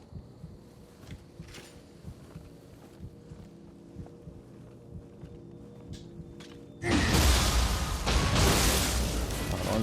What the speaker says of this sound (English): But I hear a creepy heartbeat.